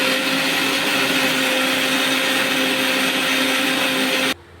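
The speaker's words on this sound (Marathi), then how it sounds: "वाटण हे असं बारीक करून घेतले।" A kitchen mixer grinder whirs loudly and steadily as it grinds a masala paste for matar paneer, the even motor drone running alone until it cuts off abruptly near the end.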